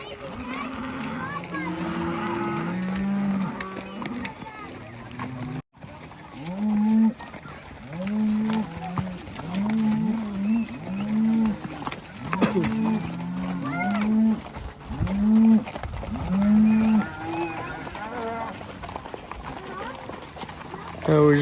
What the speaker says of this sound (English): We just got a short little cattle drive here to the corral by the cemetery.